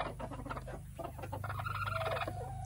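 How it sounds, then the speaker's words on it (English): A game chicken clucking on a farm, a series of quick, close clucks and throaty calls repeating in an uneven rhythm over light background noise. "And this here is my game chicken, aka Velociraptor"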